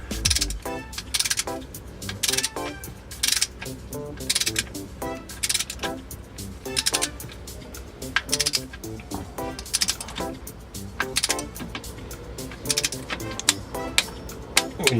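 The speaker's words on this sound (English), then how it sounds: "When you hear the clicking, you know you're good." A torque wrench tightens a 17 mm bolt on a Getrag V160 transmission in a MKIV Supra, giving rapid ratcheting clicks in irregular bursts, loud and close throughout.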